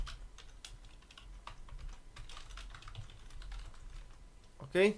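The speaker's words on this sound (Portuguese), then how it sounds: "eu vou digitar aqui" Typing on a computer keyboard at a Linux terminal, a steady run of soft key clicks at low level, with a brief spoken word near the end.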